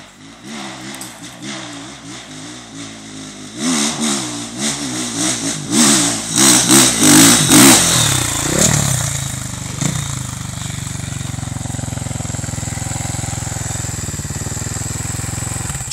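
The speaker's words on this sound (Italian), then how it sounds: "Via dritta la motocicletta." An enduro motorcycle's engine climbs through rising, choppy revs as it accelerates up a hill, peaking loud and rough midway, then settles into a steady, droning run.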